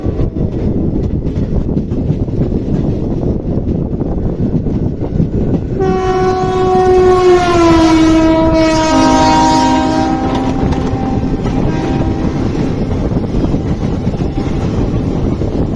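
The Hubli–Narasapur daily train passes on the opposite line near Gangavathi in India, heard from a moving train: a loud, steady rumble of wheels on rails, then a long two-tone horn that slides down in pitch as it goes by.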